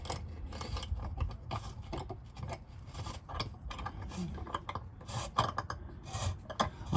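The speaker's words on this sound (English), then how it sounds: "I'm just going to run an M8 tap through each hole" An M8 tap is worked through grainy bolt holes on a Fiat Ducato spare wheel carrier mount, a soft, close rasping and scraping in repeated short strokes with faint ratcheting clicks.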